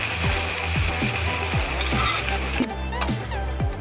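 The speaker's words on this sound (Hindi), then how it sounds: "अभी मेरा ये गरम हो गया घी और हरी मिर्च, दे देती हूँ तड़का" Dalia tempering in hot ghee with green chillies gives a loud, steady sizzle and crackle close by, with a repeated low thudding under it throughout.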